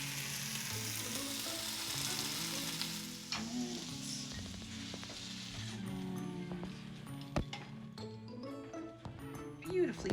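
Browned slices of a bacon substitute fry and are flipped in a pan, giving a soft, steady sizzle under a person talking. Light clinks and a few sharper crackles follow partway through.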